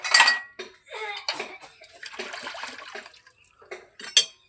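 Dishes and pots being washed under water, with irregular clinks and clatters of pans and cutlery over splashing and running water, close by, with bursts of scrubbing between brief pauses.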